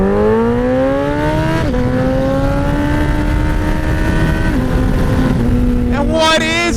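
A Kawasaki Ninja H2 or Suzuki Hayabusa sport motorcycle howls close by at high speed, with a rising engine note broken by quick gear shifts and loud wind noise.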